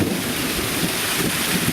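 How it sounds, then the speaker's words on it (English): Heavy hail pelting down outdoors during an archery hunt, a dense, steady hiss and patter filling the whole clip with no pauses and no talk. "it's pretty much hailing like crazy"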